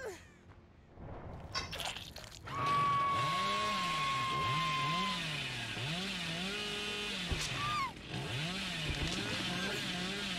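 Hillbilly's chainsaw in the horror game Dead by Daylight revs up and holds a loud, steady buzzing drone with pitch wobbles, a short drop near the end, and a voice talking faintly underneath.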